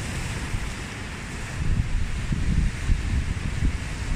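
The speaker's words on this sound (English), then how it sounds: "I'm just trying to get some shots of these waves crashing on the rocks" Atlantic waves crash on rocks along the Irish coast in squally wind and rain, a steady roar of surf with gusty rumbling wind buffeting the microphone throughout.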